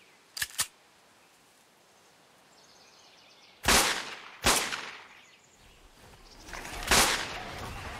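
A small pistol fires in ARK with the MRRadTools mod, sounding as a quick double crack, then sharp single shots with trailing echoes spaced a second or more apart over a quiet hiss.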